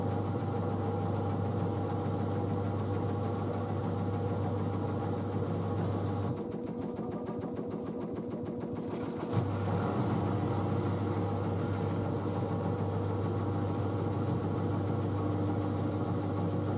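A washer dryer drum spins up from 400 RPM, giving a steady low mechanical hum with a rhythmic pulsing stretch partway through, close and continuous without speech.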